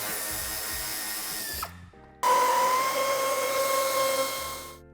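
A power tool whirs loudly and close while it removes nuts under a 2016–2020 Mercedes-Benz E-Class W213 sedan. There is a sustained run, a brief pause, then a second high-pitched spin that slowly fades, with no voices.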